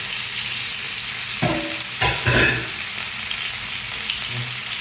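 Chicken pieces fry in hot oil with a steady, close sizzle, broken around the middle by a few louder crackles and utensil scrapes.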